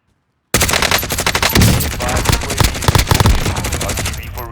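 Rapid bursts of gunfire from a loadout weapon in the video game Warzone, loud and dense, continuous rattling automatic shots with brief gaps, starting abruptly after a short silence.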